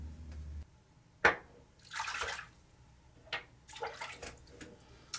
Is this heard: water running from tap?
yes